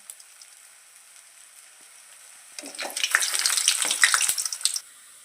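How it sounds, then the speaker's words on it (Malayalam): Masala vada fritters sizzle in hot oil, a quiet stretch giving way to a burst of dense crackling and bubbling that swells for about two seconds and then cuts off. "എണ്ണ നന്നായിട്ട് ചൂടായി വരുന്നുണ്ട് കേട്ടോ നമുക്ക് ഇതിലേക്ക് ഇട്ട് കൊടുക്കാം"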